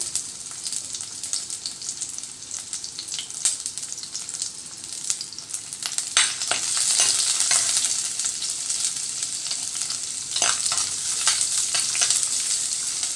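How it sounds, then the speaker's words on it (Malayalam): Crushed ginger, garlic and onions fry in a hot pan for a fish curry, a steady close hiss of sizzling with scraping stirs, swelling louder partway through. "അതിലേക്ക് നമുക്ക് ചതച്ച് വെച്ച ഇഞ്ചിയും വെളുത്തുള്ളിയും ഇട്ട് കൊടുക്കാം അതോടൊപ്പം തന്നെ സവോളയും കൂടി ഇട്ട് കൊടുക്കാം"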